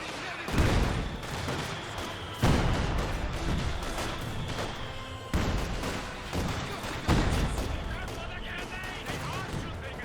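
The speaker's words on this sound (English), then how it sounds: "This gun barrage gets directed there on the MG42." An artillery barrage pounds an MG42 position in the video game Company of Heroes 2, with four heavy booms spaced a couple of seconds apart over rumbling battle noise and someone talking.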